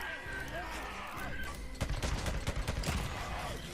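Bursts of gunfire in the video game Days Gone, a rapid volley of shots cracking close and loud for a couple of seconds over a steady background of game sound, with a voice talking around it.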